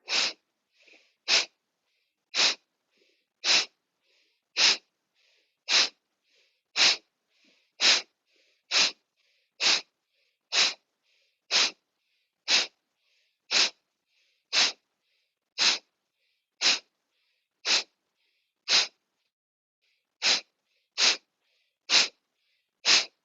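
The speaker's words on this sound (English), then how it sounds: "it's like the forcing of the bellows, like if you're making a fire" Forceful bellows breaths in seated chair yoga, a long run of sharp, evenly spaced nasal exhalations of about one per second, close and loud, with no talking.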